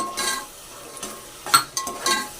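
Yogurt fries in a pot for chicken biryani, a soft sizzle broken by a few clinks and scrapes of a spoon against the metal, close and fairly quiet.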